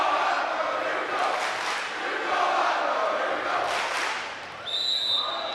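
A crowd at a high school volleyball match between Taunton and Attleboro cheers loudly and continuously in a gym, swelling and fading in waves, with a sharp whistle-like tone near the end.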